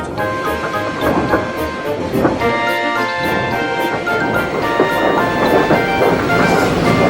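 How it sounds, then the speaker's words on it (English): A loud, rumbling express train roars past close by in a Thomas and Friends model adaptation, with steady rushing noise, squealing metallic tones and rhythmic clatter throughout. "The Limited rushed by with a growl and a roar."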